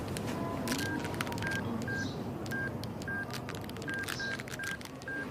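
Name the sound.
mobile phone number being dialed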